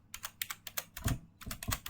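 Rapid keystrokes on a computer keyboard while entering a network configuration command, clicking in quick irregular bursts with a short pause midway, close and clear with no talking.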